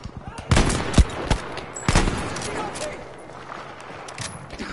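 Gunfire in Battlefield 5 gameplay: several sharp rifle shots crack out close by over a continuous din of distant battle noise, with the loudest bursts in the first two seconds.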